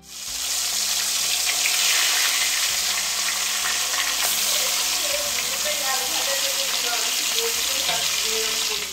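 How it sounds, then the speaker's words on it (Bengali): Dover sole (bashpata) fish fries in hot oil, a steady loud sizzle and crackle throughout with faint scraping from turning the pieces. "এই মাছটা ভাজা কত সোজা দেখছো, খুব সহজে উল্টানো যায়।"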